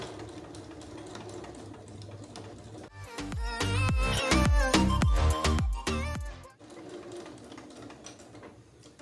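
A sewing machine runs a short burst of rapid, rhythmic stitching along a zipper seam, sewn over pins with a zipper foot, loud and close between quieter handling sounds.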